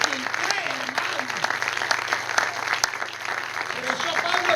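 Steady applause from a church congregation runs throughout, with distinct sharp claps over a lively crowd and voices speaking beneath the clapping.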